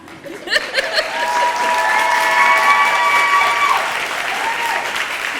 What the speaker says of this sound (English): The cheering is wonderful.